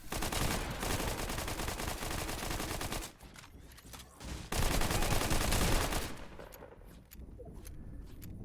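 Dense bursts of automatic gunfire from a Fortnite trios playoff match sound almost continuously. The firing is loud, with a brief quieter gap partway through, then rapid shots resume.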